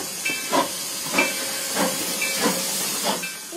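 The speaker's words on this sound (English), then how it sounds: "it's the only steam engine that's completely run on vegetable oil" Steam locomotive 4960, built in 1923 and fired on vegetable oil, hisses at Williams. Rhythmic bursts of steam come about every half second over a continuous background hiss, with no voices.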